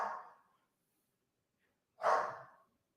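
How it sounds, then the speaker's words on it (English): Two short, breathy huffs or snorts from dogs, a schnauzer and a French bulldog, come close and clear about two seconds apart, with near silence in between. "Don't know if you hear the dogs."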